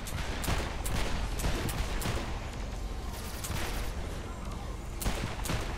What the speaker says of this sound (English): I am shooting like nobody's business right now.